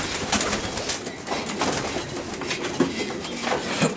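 A pigeon coos in soft, repeated throaty calls against a dense, steady background of more birds murmuring nearby.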